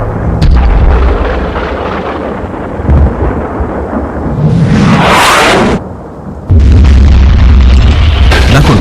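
Artillery bombardment during Operation Storm, 1995: heavy, booming explosions rolling one after another, loud and close, with deep rumbling tails and a bright crackling blast in the middle, no talk.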